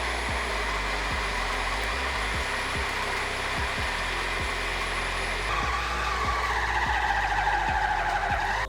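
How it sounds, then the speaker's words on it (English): Yonanas frozen fruit dessert machine running with a steady, loud motor whir, accompanied by regular thumping knocks, and a rising pitch toward the end. "we've got this Yonanas machine and that works a lot better"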